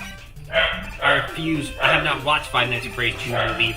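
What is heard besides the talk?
Labradoodle dog barking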